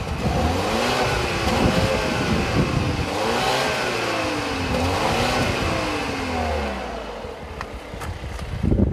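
A 2015 Volvo XC60 T6 Drive-E turbocharged engine revs repeatedly, rising and falling in pitch in several strong sweeps, loud and close with a rough exhaust note.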